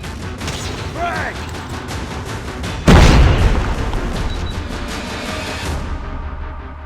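A frag grenade detonates in Call of Duty Mobile, a single loud, deep boom that decays into a rumbling tail amid background game noise and a brief shout.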